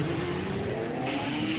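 A motorbike engine revs steadily and loudly close by, a continuous throaty drone lasting the whole short stretch with no talk over it.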